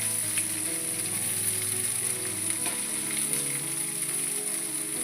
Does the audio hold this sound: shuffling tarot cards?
no